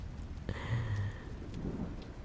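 Rain falls in the Stardew Valley video game, a close, steady patter with a low thundery rumble underneath through the short stretch. No one speaks.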